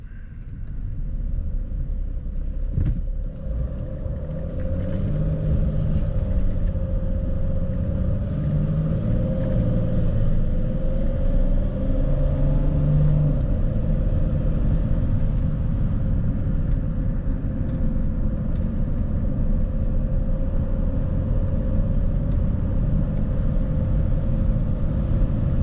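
A car drives uphill at Holter Lake Campground beside the Missouri River near Craig, Montana. A steady, fairly loud low engine rumble and road drone carry through the whole stretch, with no talking.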